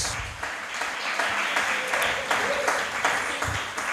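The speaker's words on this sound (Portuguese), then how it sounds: "Pode aplaudir o Senhor." Church congregation claps in a dense, steady round of applause during a Portuguese-language sermon, with voices mixed in beneath the clapping.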